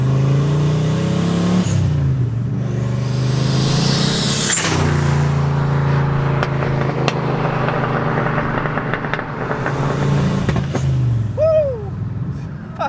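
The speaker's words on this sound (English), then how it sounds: "there's some exhaust for you guys" Nissan R34 Skyline with a big-turbo V8 swap revving loudly up close, its exhaust rising and falling in several throaty bursts with a steady deep rumble between them.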